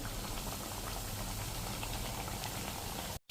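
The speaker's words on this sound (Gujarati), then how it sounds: "તો આ રીતે આપણે એક પછી એક ચકરી મૂકી દેશું તેલમાં આવે એટલી." Butter chakri spirals sizzle and bubble steadily in hot frying oil, a dense, continuous crackling close up, cutting off abruptly at the very end.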